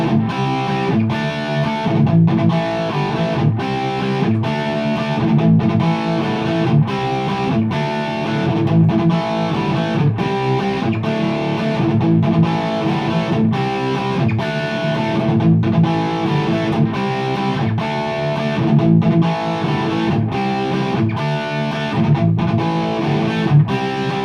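An electric guitar plays through a Marshall 2555X Silver Jubilee amplifier, a loud distorted tone with rhythmic chugging chords and steady sustained notes throughout, no talking.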